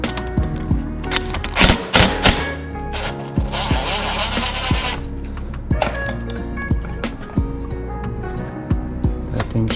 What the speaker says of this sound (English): I'm gonna just take this bolt off right here to take the old pads off